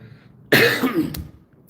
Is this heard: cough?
yes